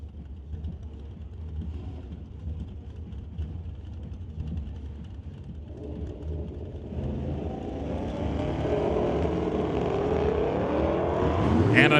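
A Shelby GT500 launches down a drag strip at a race meet, its engine roar building steadily louder over a rumbling background, ending in a loud surge as it pulls away.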